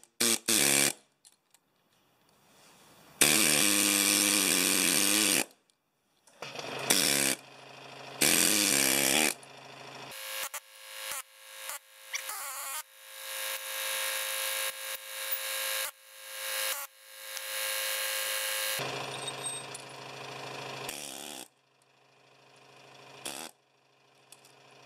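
A loud power tool chipping a quarter inch of concrete off an edge in a garage, cutting in repeated harsh, close bursts separated by short silences, with rougher grinding runs toward the end.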